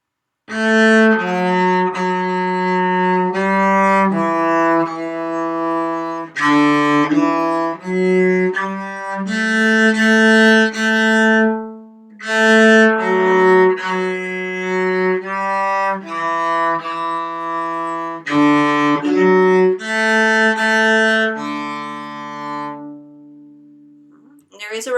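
A cello plays the melody of Lightly Row, bowed notes sounding one after another in a steady phrase-by-phrase rhythm with brief gaps between phrases, clear and close, with no talking over it.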